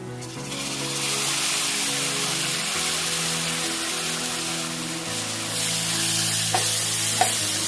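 Onion paste frying and being stirred in a pan for a dhaba-style paneer cashew capsicum curry, a steady close sizzle with scraping stirs throughout and a couple of sharper clinks near the end, no talk.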